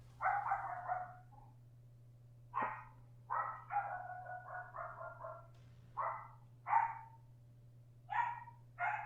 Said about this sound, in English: I love it when my dog just starts barking out of nowhere.